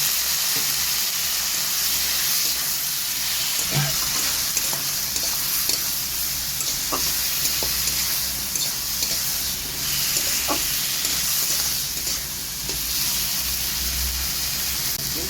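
Spice paste for rohu fish curry sizzles and is stirred in a pan, a loud continuous frying hiss with occasional scraping taps from the stirring, no talking.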